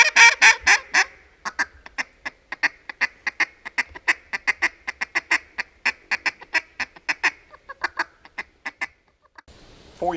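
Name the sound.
duck call being blown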